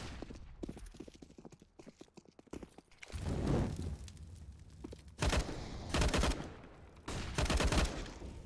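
Bursts of rifle fire crackle in a Counter-Strike match on the Train map, several loud volleys separated by short pauses, preceded by rapid clicking footsteps.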